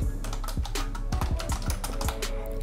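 Someone typing a server name on a computer keyboard: a close, brisk run of clicking keystrokes in quick, slightly uneven rhythm with a few heavier presses, steady throughout and without speech.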